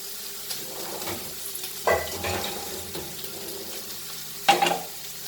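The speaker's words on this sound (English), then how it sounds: "So let it get still more fried. Now we will fry our onion." Onion fries in a pan for Goan prawn balchao, giving a steady low sizzle with a few clattering stirs, one near the two-second mark and one louder near the end.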